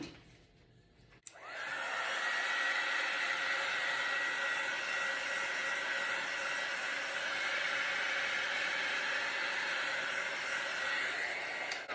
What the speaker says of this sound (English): I'll hit it with the heat embossing tool